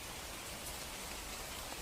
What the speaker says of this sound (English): The rain falls on the umbrella.